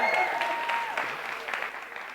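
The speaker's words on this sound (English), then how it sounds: "I can't believe you still got clapping in you." Audience clapping in a live comedy show, a brief burst of scattered hands that thins and fades within about two seconds, with a few sustained tones trailing off underneath.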